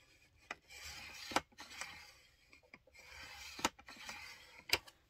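A blade scores a fold line halfway across cardstock, quiet scratchy rubbing strokes punctuated by a few sharp clicks and taps, close and with no talking.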